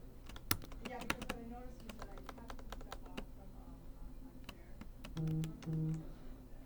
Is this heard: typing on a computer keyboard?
yes